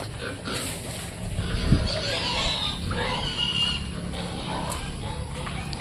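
Pigs at a feeding pen grunt and oink amid a busy, noisy farm background, with one sharp squeal-like grunt standing out and faint voices nearby.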